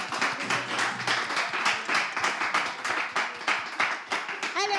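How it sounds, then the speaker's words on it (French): A studio audience claps steadily to welcome a guest onto a French live show, a fairly small crowd with dense clapping that runs on without a break. "alors on va applaudir et l'accueillir ici, si vous voulez bien"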